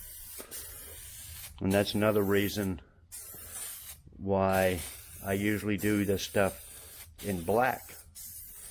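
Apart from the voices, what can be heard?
spray painting interior trim pieces black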